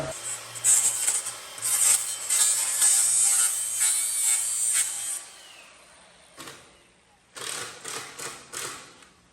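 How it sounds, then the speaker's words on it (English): Power tool grinding off the side of a metal duck cage hinge, a loud high whirring rasp lasting several seconds, then a pause and shorter bursts of grinding. "I'm gonna grind this side off"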